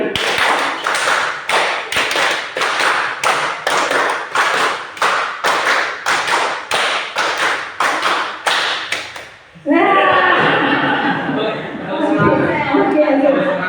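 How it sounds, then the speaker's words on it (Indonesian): A group clapping together in rapid, even bursts that repeat many times, loud and close, then giving way to a room full of overlapping chatter. "Tepuk 5 kali."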